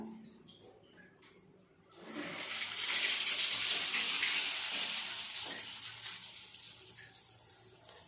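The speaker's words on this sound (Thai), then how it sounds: "เดี๋ยวลองเปิดน้ำดูอีกรอบนะครับ" Water is switched on and gushes through a repaired household shower hose, starting suddenly after a quiet moment as a loud, steady hiss that eases slightly while it keeps running.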